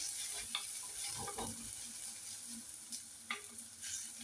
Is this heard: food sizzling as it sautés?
yes